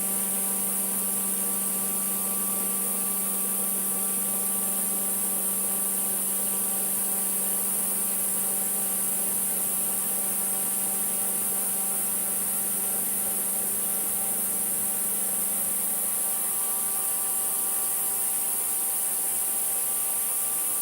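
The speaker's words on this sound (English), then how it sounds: "this is the compressor that has just come on" A screw-type air compressor runs one floor down, giving a steady, faint, unbroken hum with a constant tonal drone throughout and no pauses.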